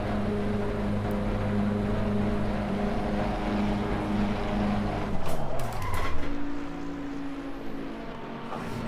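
Race car in Assetto Corsa Competizione sliding as its rear end breaks loose: a steady engine drone and tyre noise shift abruptly as the car spins out, followed by a changed, lower engine tone, loud and continuous with no talk.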